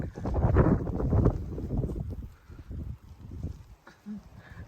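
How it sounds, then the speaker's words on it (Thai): Strong wind on a snowy morning buffets the microphone in loud, rumbling gusts that peak early and then ease into lighter, uneven bursts, with no talk. "ลมแรง"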